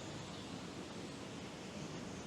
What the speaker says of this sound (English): And you got to keep the fountains going to stir up all that water.